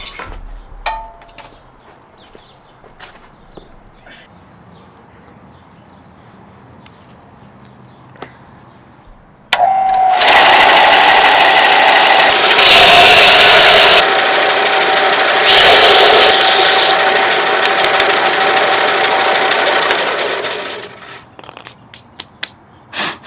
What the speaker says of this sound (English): To sand them down, I use this belt sander simply for the lack of room in the workshop and the amount of dust and mess it makes.